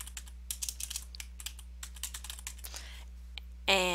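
Typing on a computer keyboard, a steady run of close, crisp key clicks in an irregular rhythm, then a brief brighter burst right at the end.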